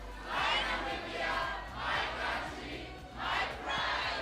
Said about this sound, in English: I'd like us to repeat the slogan, My Namibia, my country, my pride.